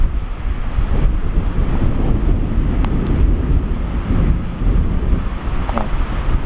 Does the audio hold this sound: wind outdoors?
yes